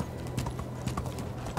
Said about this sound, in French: On enfourche le cheval et on est reparti.